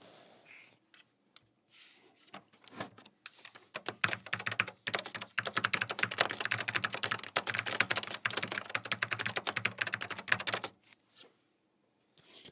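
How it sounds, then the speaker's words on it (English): Close-up typing on an old Mac computer keyboard: a dense, fast run of crisp key clicks builds after a few scattered taps, then stops with a couple of final presses. "Mike, do you want to hear the keyboard up close."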